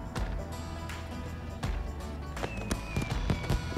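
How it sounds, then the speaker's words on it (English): Fireworks going off in Far Cry 5 during a celebration scene, with repeated sharp cracks and bangs, several whistling rockets and overlapping bursts at moderate distance. "a load of other people have just turned up to celebrate with fireworks"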